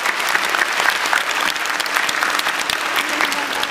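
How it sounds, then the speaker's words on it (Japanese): An outdoor crowd at Universal Studios Japan claps loudly for Sesame Street characters Cookie Monster and Big Bird, a close, brisk burst of applause with crisp individual claps throughout. "もう一度大きな拍手をお願いします"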